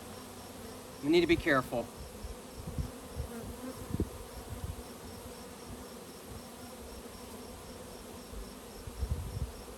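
A honeybee swarm being installed from a catch hums as a faint, steady buzz, with a sharper bee flying close by for a moment near the start while a person speaks briefly.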